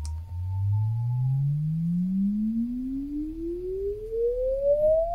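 A sine-wave test tone sweeps steadily upward from low to high pitch through a 1962 Romanian-made oval full-range speaker, a smooth continuous glide heard alone in a quiet room.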